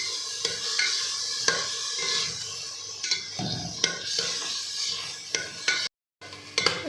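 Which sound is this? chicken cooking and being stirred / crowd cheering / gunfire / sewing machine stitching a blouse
chicken cooking and being stirred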